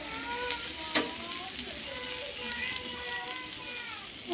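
Fish hits hot oil with fried spices in a pan and sizzles steadily up close, with faint clinks of stirring.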